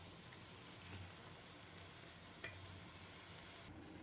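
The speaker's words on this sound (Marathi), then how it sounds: "याला पण छान परतून घेते मी." Potatoes and cowpeas being sautéed in a pan give off a steady, soft sizzle throughout, with a couple of faint scrapes from stirring and no voices.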